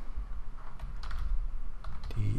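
A computer keyboard is typed on to enter a file search in Windows, a few scattered key clicks heard close up over a low background hum.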